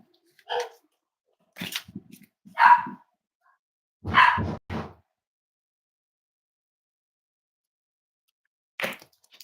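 Cavalier puppy giving several short, high yips and barks in an irregular pattern, close and fairly loud, with quiet gaps between them.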